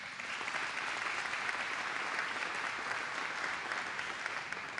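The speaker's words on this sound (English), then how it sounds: "another round of applause for Mary" Steady, dense audience applause fills a large venue at a GM factory event for a presidential infrastructure speech, continuous and even throughout without a break.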